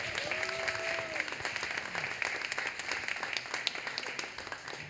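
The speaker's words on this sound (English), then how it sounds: "everyone, please give a round of applause for Jadi Amazi" A round of applause from an audience at a Boston poetry event, welcoming a poet, with steady clapping from a modest crowd and a few brief whistles or cheers early on, easing off toward the end.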